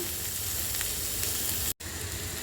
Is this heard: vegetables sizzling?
yes